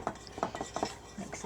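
A utensil mixes bubble solution in a container, giving a quick series of close clinking, scraping strokes in a rapid irregular rhythm, about five taps in under two seconds.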